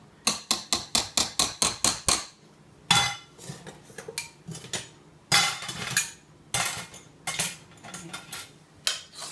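A utensil knocks and scrapes against a pot while mashed potatoes are mixed with butter: a quick run of about ten sharp metallic taps, a pause, then irregular clinks and clattering strokes, close and fairly loud.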